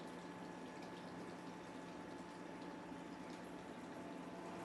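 Highly carbonated mineral water from Brazil's Circuito das Águas fizzes in a glass, a steady, even hiss of tiny bursting bubbles throughout, with no speech.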